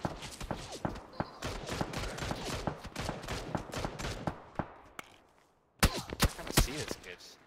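Gunfire during a video game scrim: rapid bursts of shots in dense flurries, a brief lull, then more sharp shots, loud and close, with players talking over it.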